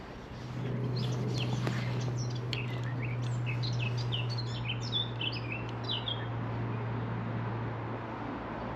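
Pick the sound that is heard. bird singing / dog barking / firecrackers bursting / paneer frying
bird singing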